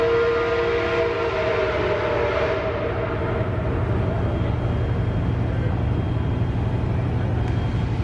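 Nickel Plate 765 steam locomotive on a run-by, a loud, steady rumble of the passing train with sustained whistle tones early on, fading into continuous mechanical roar.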